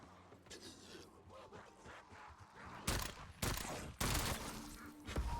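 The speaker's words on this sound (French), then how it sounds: "c'est le fucking pistolet laser" Laser pistol gunfire rings out in Call of Duty: Black Ops 7 Zombies, with several loud bursts of shots breaking through a busy game soundscape and muffled background voices.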